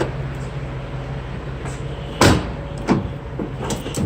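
Rear cargo doors of a 2017 Ford Transit T-150 mid-roof short-wheelbase van are handled, with a loud metallic clunk, a softer knock shortly after and light rattles over a low background hum.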